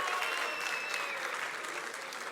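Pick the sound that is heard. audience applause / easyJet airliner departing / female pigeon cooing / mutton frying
audience applause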